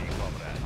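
Flak cannons firing in the video game Red Alert 2, a short dense burst of booming, rumbling fire with no clear gaps between shots.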